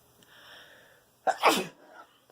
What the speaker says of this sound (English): I am going to sneeze again.